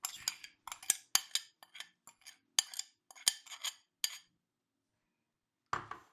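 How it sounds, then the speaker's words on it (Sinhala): Spoon stirring mung bean sprout salad in a bowl, a series of sharp clinks and scrapes in quick irregular bursts, close and fairly quiet, then a pause before one last clatter. "ඊට පස්සේ මේක හොඳින් කලවම් කරගන්න"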